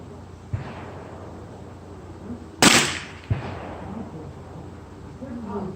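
Two sharp AR-15 rifle shots in 300 Blackout fired at a target on an outdoor range, one faint near 0.5 s, a louder crack around 2.6 s and another at 3.3 s, with faint talk in the background.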